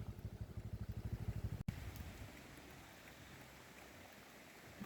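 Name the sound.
rain during a motorcycle ride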